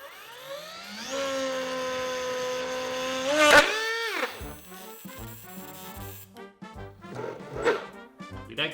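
A 3D printed compressor motor in a jet engine built from a Dyson fan spins up with a rising whine, then holds a steady high tone before cutting out abruptly. Rattling, clattering mechanical noise follows.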